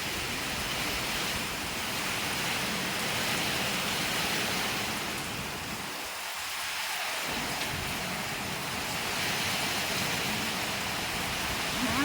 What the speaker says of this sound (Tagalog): lakas ng hangin. Tsaka ulan. Ulan at hangin.